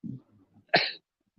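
One sharp, close sneeze bursts out after a moment of soft, muffled murmuring, then quiet follows.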